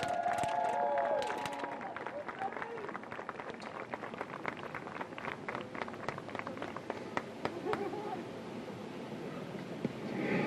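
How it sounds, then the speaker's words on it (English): Fans in the stands at a 2025 NCAA Division III women's soccer national championship clap and cheer for student athletes, coaches and staff. The applause is sustained and steady, with scattered whistles and shouts across the crowd. "Fans, let's give all of these outstanding student athletes, coaches, and staff a round of applause."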